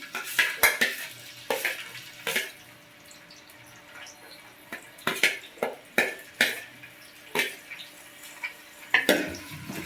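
Green chillies and chopped onion tipped into hot oil for a mutton dish: sparse clinks and knocks of utensils against a pan, with brief bursts of sizzle between quieter gaps, close by and moderately loud, no talking.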